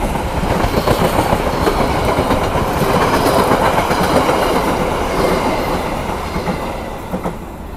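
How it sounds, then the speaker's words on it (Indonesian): A Mutiara Timur passenger train rumbles loudly past a closed level crossing, its steady roar and rolling wheel clatter holding for several seconds before easing slightly at the end. "mari kita tunggu kereta api Mutiara Timur lewat"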